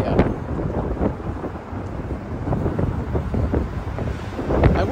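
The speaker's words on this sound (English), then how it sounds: "God, why is it windy?" Strong wind buffeting the microphone on a Medford Branch Green Line Extension train platform, a loud continuous rumbling roar with gusty swells and no clear talk.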